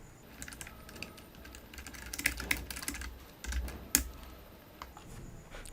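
Someone types a subscription plan name on a computer keyboard, the key taps light and uneven, clustering in quick bursts and then pausing, with no voices over the quiet clicking.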